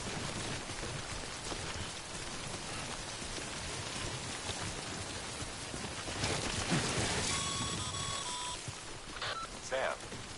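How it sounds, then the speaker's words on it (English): Timefall rain pours steadily in Death Stranding, a dense, continuous hiss of drops with a few brief tonal game sounds near the end. "Don't stay out in the rain any longer than you have to."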